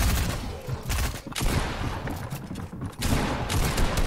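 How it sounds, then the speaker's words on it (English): Rapid gunfire bursts in a Fortnite match, a near-continuous fusillade of shots with brief dips in between, loud and dense from start to finish with no talking. "As you miss that shot through that window."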